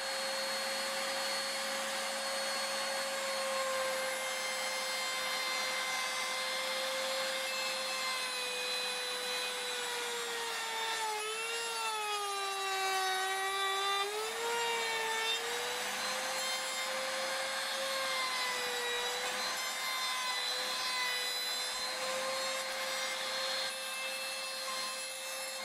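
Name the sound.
saw blade cutting into wood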